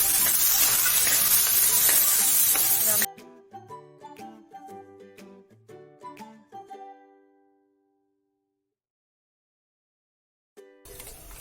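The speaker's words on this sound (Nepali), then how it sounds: "अब यसमा चामल फ्राई गर्नु।" Loud, steady sizzle of Taichin rice frying in a pan for a few seconds, then a run of plucked musical notes fading to silence, and the sizzle returns briefly at the end.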